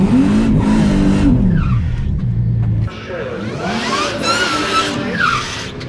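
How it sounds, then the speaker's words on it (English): A big turbocharged LS-engine truck races down a drag track, its loud engine roaring and rising in pitch with tire noise, heard close and steady throughout. "This is a big turboed LS truck."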